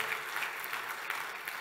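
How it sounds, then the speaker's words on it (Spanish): A church congregation claps together in steady, dense applause that holds evenly for a moment, heard from within the room. "¿Por qué no le damos un fuerte aplauso al Señor?"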